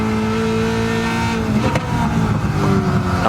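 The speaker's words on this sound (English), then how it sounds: "Down to 2nd gear and flat out under the Dunlop bridge as we head down the hill." A NASCAR Camaro ZL1 race car engine in a racing video game revs hard at full throttle after a downshift to second gear, a loud, steady high-pitched roar that climbs and surges with a brief shift blip midway.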